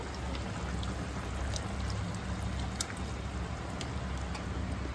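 Water pours into a pressure cooker of fish curry, a continuous, loud, close splashing rush that holds steady for several seconds without talking.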